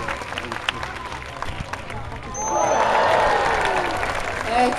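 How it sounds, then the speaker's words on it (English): An audience at an aquarium sea lion show claps and cheers, the applause swelling midway and holding steady, with an announcer's voice and crowd chatter around it. "So one more time, put your hands together. Cheer her on."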